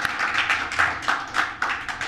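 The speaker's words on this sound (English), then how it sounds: "One more round of applause for Leslie" An audience at a short story talk gives a brief round of applause, a dense patter of hand claps close by, lasting about two seconds.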